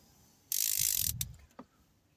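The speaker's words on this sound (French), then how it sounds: "Et vous finissez à la clé, à cliquer." A ratchet wrench tightens the oil drain plug on a Renault Clio 2 1.5 dCi, giving a loud burst of rapid clicking for under a second, then a few separate softer clicks.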